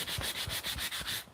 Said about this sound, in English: I'm gonna dust a little bit off and see if any parts need sanding more